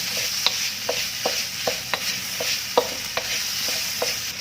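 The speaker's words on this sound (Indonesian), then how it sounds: "Wortel sama buncis juga dimasukkan, osreng sampai tercampur dan sayurannya layu." Carrots and green beans being stir-fried in a pan, with a steady sizzle and a run of sharp, evenly spaced spatula scrapes and clacks against the metal, close and fairly loud, no voices.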